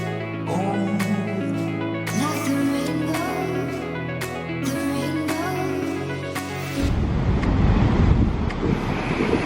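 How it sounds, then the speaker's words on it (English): Sustained droning tones give way to loud, rushing wind and crashing waves during a winter storm, the roar filling the last few seconds up close. "I want to get a closer look at these waves from a safe distance"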